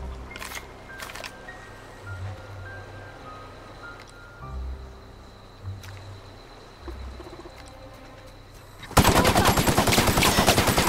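A sudden loud burst of rapid automatic gunfire from a gun shooting at an enemy in The Outer Worlds, arriving near the end after a quieter stretch of low ambient game sounds.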